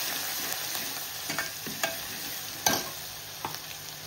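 Cumin, asafoetida, curry leaves, chili, ginger and garlic sizzle in hot oil with a continuous frying hiss and a few sharp crackles and spatters, close by and with no talking.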